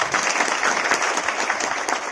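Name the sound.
applause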